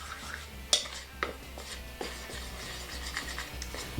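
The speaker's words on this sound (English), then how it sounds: "you want to make sure that the salt and the flour are combined. So just sort of mix that up a little bit" Salt and flour stirred together in a bowl for pie pastry, with soft scraping and a few light taps of a utensil against the bowl, quiet and close over a low hum.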